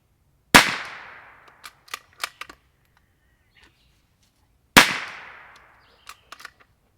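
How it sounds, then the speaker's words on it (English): A Savage FVSR .22 rifle fires CCI standard ammunition without a suppressor: two sharp, loud cracks several seconds apart, each with a short ringing tail and followed by light mechanical clicks from the action. "Now we got the Savage fvsr 22 unsuppressed CCI standard."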